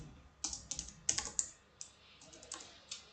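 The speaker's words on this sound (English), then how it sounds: "It doesn't help typing with a cigarette in your hand." Computer keyboard typing, a quick irregular run of crisp key clicks, close and fairly quiet, with short pauses between bursts.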